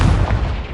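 A deep, booming blast from the Confringo fire spell in the video game Hogwarts Legacy, a single loud explosion rumbling heavily in the low end for a brief moment.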